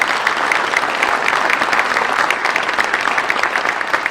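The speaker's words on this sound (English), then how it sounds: "Let's give the Meadowview folks a wonderful round of applause." Sustained, loud applause from the crowd at the Kingsport Chamber holiday breakfast, dense and steady clapping that lasts throughout.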